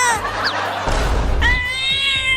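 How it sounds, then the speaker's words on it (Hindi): Cartoon cats give loud, high, drawn-out meows one after another, including a long wavering yowl near the end, close and prominent over a low rumbling background. "नहीं तो ये कमीनी बिल्लियाँ मुझे बहुत काटेंगी"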